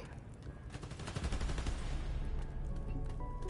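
Loud video game gunfire from Spider-Man Miles Morales: rapid, sustained automatic bursts that thicken into a dense barrage over the whole stretch, with no voices.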